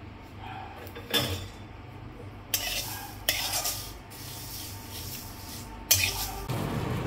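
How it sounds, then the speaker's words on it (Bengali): Panch phoron, fennel seeds and chillies frying together in a pan for a sweet-and-spicy raw mango pickle, with a steady low hiss and a few sharp metallic scrapes and clanks of stirring, close and fairly quiet. "এইগুলো আমি সব একসাথে ভেজে নিচ্ছি, সব ভাজা হবে।"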